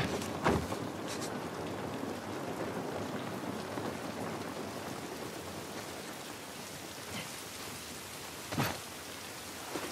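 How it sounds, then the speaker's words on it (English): Steady rainfall pattering on surfaces in The Last of Us video game, a continuous soft hiss with a few sharper drop impacts standing out. "This rain ain't gonna do us any good."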